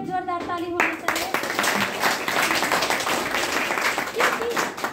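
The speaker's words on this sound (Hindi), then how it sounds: "हम सब के लिए एक जोरदार ताली होनी चाहिए" An audience claps at an Indian gathering about a herbal remedy, a steady wash of hands continuing after a brief voice at the very start.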